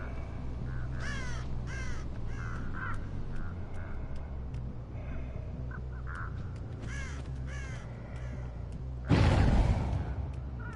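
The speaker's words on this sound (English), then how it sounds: "I keep hearing birds." Crows caw repeatedly in a Dead by Daylight match, scattered harsh calls over a steady low game-ambience drone, with a louder burst of noise near the end.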